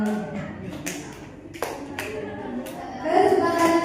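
A group standing in a circle claps hands in scattered, uneven bursts, each person slapping the hand of the neighbour to the right, with an instructor talking over the claps.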